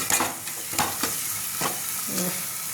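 Country chicken frying in spicy masala with oil, a continuous close sizzle broken by repeated scraping stirs of a spoon against the pan.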